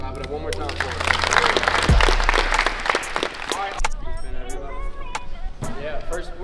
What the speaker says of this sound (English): clap it up one more time for us